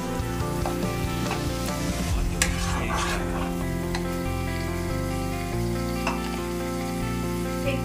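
Onions and spices frying over low heat in a pan, a steady sizzle with repeated stirring scrapes, close and moderately loud, with a faint musical background.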